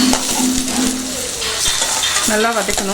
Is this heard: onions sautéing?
yes